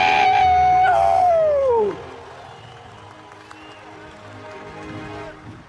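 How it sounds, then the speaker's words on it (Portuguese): A rally crowd applauds the military police during a Bolsonaro speech, opening with a loud burst and a wavering high tone sliding downward, then settling into steady, softer clapping and crowd murmur. "Uma salva de palmas para a polícia militar!"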